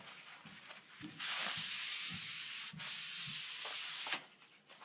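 Cloth rubbing across the top of a Delta 10-inch 36-725 table saw, including the miter slots: a steady, close scrubbing swish that runs for about three seconds, briefly pauses, then continues before stopping, with a few soft knocks early on.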